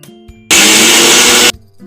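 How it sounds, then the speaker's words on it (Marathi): A mixer grinder powders roasted chickpeas and cumin for sattu in one loud, close whirring burst of about a second, with quiet before and after. "फुटाणे आणि जिरं मिक्सरमधून त्याची पावडर करून घ्यायची"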